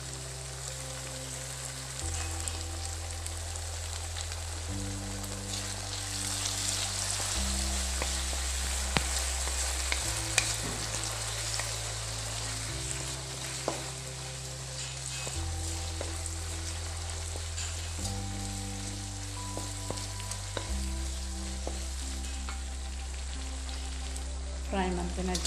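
Jackfruit Manchurian fries in a pan with soy sauce and tomato sauce, sizzling steadily throughout with occasional scraping stir sounds, while a low tonal music bed plays underneath.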